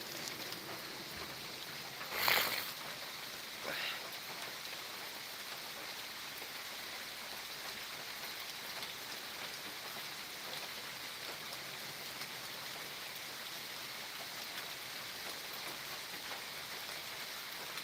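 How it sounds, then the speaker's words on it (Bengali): Heavy rain falling outdoors under trees, a steady, even hiss throughout with a brief louder clatter near the start and no voices. "অনেক বৃষ্টি নামছে"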